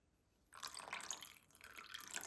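Water poured from a small measure onto 25 g of gelatin in a bowl starts abruptly as a soft splashing trickle and runs on for under two seconds, close and quiet.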